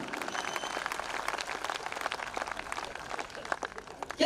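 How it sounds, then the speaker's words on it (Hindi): Scattered audience applause at a Hindi comedy poetry gathering, fairly thin and uneven, with a few louder claps near the end. "तालियां कम रह गई आपकी।"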